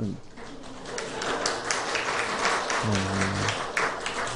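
Applause from an audience at a university chapel service fills the room, a steady dense patter of clapping, with a voice briefly heard over it near the end.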